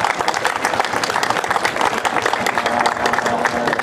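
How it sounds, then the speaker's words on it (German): Steady crowd applause at the Heiligenrode harvest festival, honoring the farmers; dense, continuous clapping that fills the whole stretch, fairly loud and close, with a faint murmur of voices beneath. "Bitte einen großen Applaus für unsere Landwirte."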